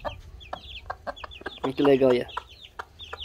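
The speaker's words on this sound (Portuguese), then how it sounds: "o legal da galinha é porque ela ensina os pintainhos a se alimentar" A hen clucks repeatedly in short soft bursts while feeding her chicks, with high chick peeps scattered throughout and a person speaking briefly in the middle.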